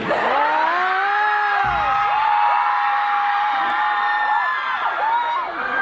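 A dense crowd at a fan convention screams and shrieks continuously at high pitch, loud and sustained, with individual rising and falling wails standing out above the roar.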